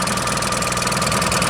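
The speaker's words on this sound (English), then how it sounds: "We're just going to kill the engine, I think, don't you?" Small sailing boat's engine running near Wells-next-the-Sea, a loud, close, steady mechanical chug with an even throbbing rhythm and no voices over it.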